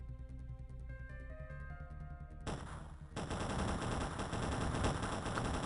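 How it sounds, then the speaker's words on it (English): Aircraft guns firing in the X-piratez video game, a dense continuous burst of rapid gunfire that starts abruptly partway through and stays loud until the end. "Look how quickly we are shooting."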